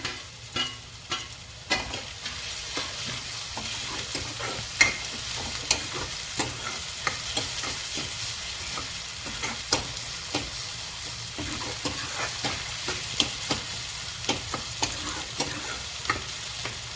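Mustard greens (sarson ka saag) get a tempering of green chillies in hot oil, a steady close sizzle and frying hiss broken by repeated stirring scrapes and clinks of a spoon in the pan, with no talking.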